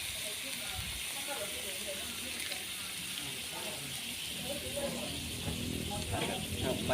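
Coconut milk poured into a hot pan of curry paste for a giant eel stir-fry gives a steady, close hiss and sizzle that swells slightly toward the end.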